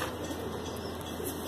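Desi pure-breed pigeons in Bhopal, Madhya Pradesh, give a soft, low cooing that sits close but faint under a steady wash of background noise.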